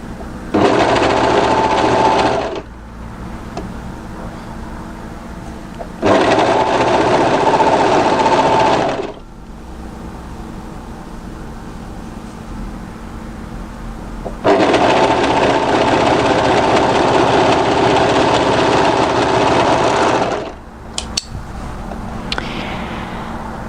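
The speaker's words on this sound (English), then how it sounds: "what we need to do is sew down and around the outside of this curve." A sewing machine stitches around the curved edge of a sweatshirt pocket in three loud, steady runs of rapid whirring, with short quiet pauses between them.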